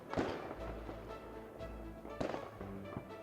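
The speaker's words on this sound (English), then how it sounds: "A series of fireworks go at once, evoking a landscape in your mind's eye." Video game Ova Magica plays a burst of fireworks, two loud crackling pops near the start and middle over a low rumbling bed with scattered fizzing bursts between.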